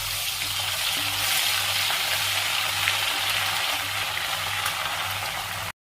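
Ginger garlic paste frying in a pan for prawn pickle, a steady close sizzle with a low hum beneath that cuts off abruptly at the end.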